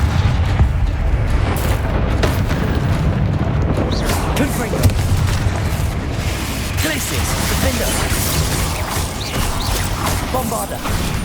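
Bombarda explosion spells cast in the Hogwarts Legacy video game, loud booming blasts layered over dense, continuous combat noise with voices mixed in.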